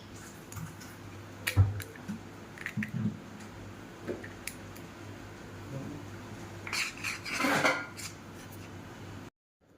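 An egg is cracked into two bowls of flour with salt and mixed for chicken roll dough, giving a few soft taps, squishes and clinks of utensil against bowl, then a brief busier burst of stirring near the end.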